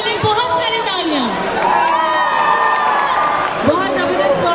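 A crowd at a meet and greet for Humayun Saeed and Ayzah Khan, with loud cheering, whoops and shouting close by and clapping mixed in, while voices call out over the noise.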